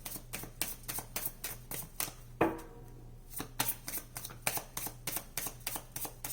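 Tarot cards are shuffled by hand in quick, repeated riffling bursts, with a short pause for a card draw midway, close and fairly quiet.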